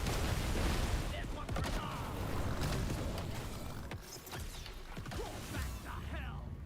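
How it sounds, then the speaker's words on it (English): Repeated explosions burst in a roguelite video game, including cold damage blasts, a busy cluster of sharp cracks and thuds layered over a rumbling bed of game noise at moderate volume, with no clear speech. "Okay, let's add cold damage explosions."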